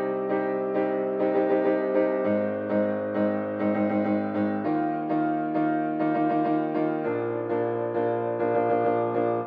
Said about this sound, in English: Then there's this new piano, which sounds like this.